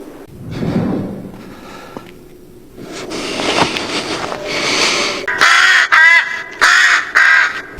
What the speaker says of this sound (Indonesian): Frank yang muak berusaha mengusir gagak Itachi yang sedang mukbang bangkai zombie